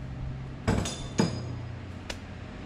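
Metal bolts from a Case 305 exhaust manifold job land in a magnetic parts bowl as two sharp metallic clanks close together, followed by a fainter tap, close and quiet.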